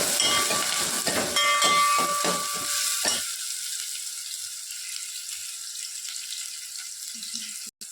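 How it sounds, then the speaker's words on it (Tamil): Chopped tomato frying in a pan for fish curry produces a loud sizzle with stirring clatter, then the sound drops suddenly to a faint, steady hiss of steam. "இப்போ தக்காளி நல்லா வதங்கட்டும்."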